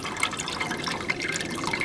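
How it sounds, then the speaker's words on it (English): Liquid trickles and drips steadily from a steeped muslin grain bag held above a pot while homebrewing extract beer, a close, continuous patter with no talk. "I'm going to let it drain until it stops dripping."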